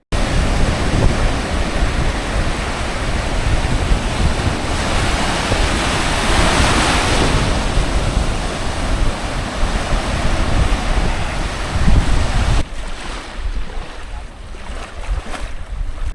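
A boat ride on the Burhabalang river, with steady broadband rush of water and wind buffeting the microphone, loud and continuous before dropping quieter near the end; no speech.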